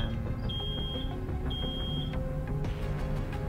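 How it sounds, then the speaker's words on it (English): Two long electronic beeps from an alarm in the video game Road 96 sound over a busy background of layered music and noise, with an intermittent alarm-like tone. "Oh no, something's beeping."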